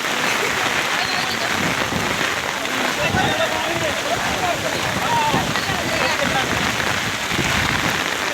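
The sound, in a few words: heavy rain falling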